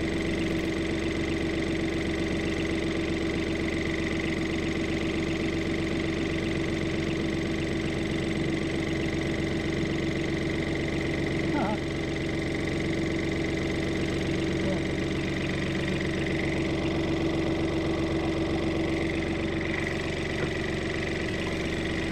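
A boat's diesel engine idles steadily with the seacock closed, a constant low rumbling drone with a regular rhythmic knock that holds close and even for the whole stretch, with no talking over it.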